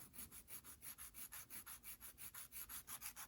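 A hand file works over a metal casting for an HO scale tender kit, giving a quiet, close rasp in rapid, even back-and-forth strokes, about five per second, with no voices.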